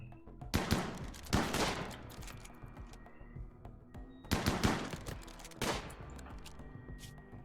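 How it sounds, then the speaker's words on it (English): Bursts of gunfire in the RimWorld colony game come in two heavy volleys several seconds apart, each a cluster of sharp cracks fading into a rumbling tail. "There's the gunshot."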